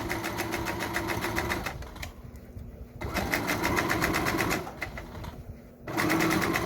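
A sewing machine stitching a surgical skull cap, rapid mechanical needle clatter running in steady bursts with short pauses between runs, close and alone.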